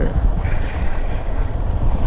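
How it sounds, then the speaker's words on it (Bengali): Steady wind rushing past an open helmet visor while riding a motorbike through green countryside, a loud, continuous low-frequency buffeting roar that fills the whole stretch. "সেই একটা বাতাস"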